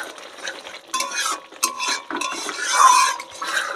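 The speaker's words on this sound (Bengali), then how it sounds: "চিনিটা দিয়ে এবার ভালোভাবে আরো কষিয়ে নেব।" Masala with a little sugar being stir-fried in a pan for Bengali doi katla, giving steady scraping and stirring strokes with a faint sizzle, close by and with no talk.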